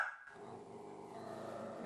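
A dachshund with an unusually loud, powerful voice barks and growls close by, a sustained harsh vocal outburst filling nearly two seconds after a brief quiet start.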